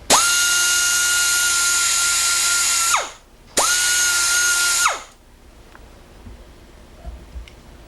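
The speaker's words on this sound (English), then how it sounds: "Now we're gonna proceed to take the burr off this guy using a lot of finesse." An Ironhead Sportster rotor has a burr ground off with a high-pitched power tool: two loud whining bursts, the first about three seconds and the second shorter, each spinning down, then quiet shop ambience with faint clicks.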